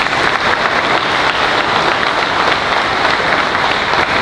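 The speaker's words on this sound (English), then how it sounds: "a round of applause for all of the inductees one last time" A banquet audience at a wrestling hall of fame awards ceremony gives the inductees a sustained, dense round of applause, steady and loud throughout with no talking over it.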